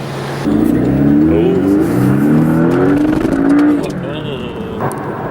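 A Porsche car accelerates, its engine note climbing loudly and steadily for a few seconds before easing off into a lower hum.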